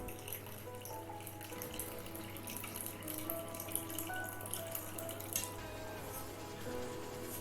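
Water pours from a tap into flour for lamb-recipe dough in a home kitchen, a steady running flow with small splashes and drips over a constant low background hum.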